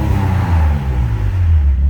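Car engine revved in a tuning shop, a loud close low rumble that swells and holds briefly with no one talking.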